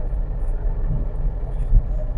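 A Mahindra Bolero Maxx pickup truck cruises at speed, a steady low engine and road rumble heard from inside the cab with a brief louder thump near the end.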